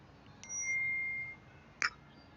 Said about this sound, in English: my phone just steady be pinging when I'm recording